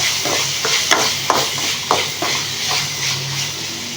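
Chopped tomato fries in a pan for egg curry, a constant loud sizzle with repeated scraping strokes of a stirring utensil scattered throughout.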